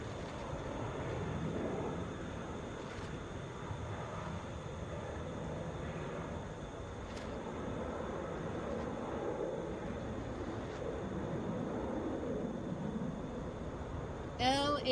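A Boeing 717 airliner arriving at Atlanta airport, its low engine rumble droning steadily and distantly for the whole stretch, with a person talking over it.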